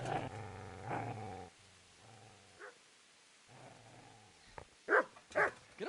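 Dog growling in the medieval video game Kingdom Come: Deliverance, low sustained growls in two bursts separated by quieter rumbling, followed by sharper snarling yelps near the end.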